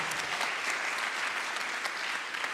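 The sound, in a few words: audience applause at student founder showcase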